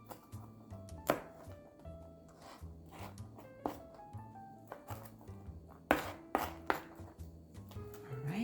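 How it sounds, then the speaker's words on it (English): A knife cuts up bacon on a board in scattered, uneven chops, with a few louder clustered strikes later on, over a quiet tonal background. "let's go ahead and cut up this bacon."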